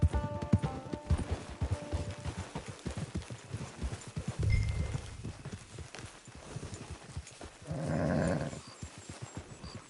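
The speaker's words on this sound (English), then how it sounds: "It's your horse." Horse hooves clip-clopping in Red Dead Redemption 2 as a rider arrives at a camp, a steady run of close, rhythmic hoof strikes with a brief louder rush near the end.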